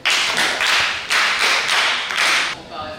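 A crowd applauds in several loud, dense surges of clapping, swelling and easing in waves before stopping abruptly near the end.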